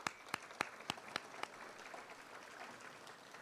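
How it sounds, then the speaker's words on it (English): Applause for students at an education foundation coronation, a few loud distinct claps up front fading into quieter scattered clapping from a crowd, then a soft murmur. "So one more round of applause for your hard work."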